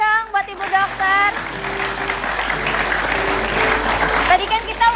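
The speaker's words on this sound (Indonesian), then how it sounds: "Boleh tepuk tangan dong buat Ibu Dokter" A television talk show studio audience applauds a doctor guest, a sustained wash of clapping with a voice talking at the start and again near the end.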